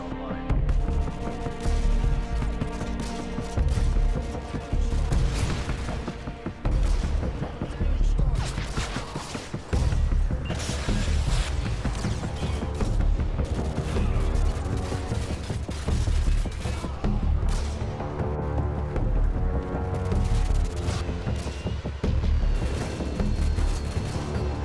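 Dense game combat from Modern Warfare 2 (2009) around a Javelin missile launcher: continuous loud gunfire, booms and explosions layered over constant mechanical battle noise, with no clear pauses.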